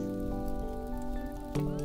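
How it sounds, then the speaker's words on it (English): Light rain ambience patters steadily in the background of a cozy study-stream soundscape, soft and continuous, layered with sustained tonal hum and a brief louder swell near the end. "Maybe a little bit of rain. Not too much rain."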